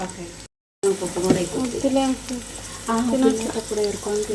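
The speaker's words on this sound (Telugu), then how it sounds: "ఆయిల్ కాగిపోయింది ఇప్పుడు ఉల్లిపాయలు పచ్చిమిర్చి వేసుకున్నాం" Sliced onions and green chillies crackle and sizzle in hot oil in a home kitchen pan, a steady frying hiss after a brief silent gap, with someone talking over it.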